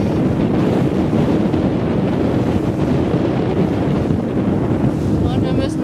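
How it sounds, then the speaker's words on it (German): Strong headwind buffets the microphone in a constant roaring rush while sailing, with water and boat noise blended underneath. "der Wind kommt immer noch von vorne."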